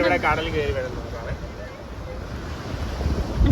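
Sea waves wash in at the shore, a continuous rushing surge with wind buffeting the microphone, while a person talks over it at the start.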